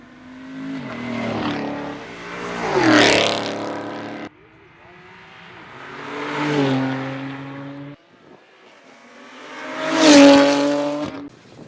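At a Cars and Coffee meet, cars including a Ford GT500 rev and sweep past one after another. Three loud engine passes each rise and fall in pitch as the car approaches and pulls away, and they are separated by short gaps.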